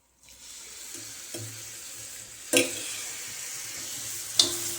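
A little water goes into an iron pan of cooking toor dal amti, setting off a steady sizzle and hiss with a few sharp splashing clinks, close up and with no voices.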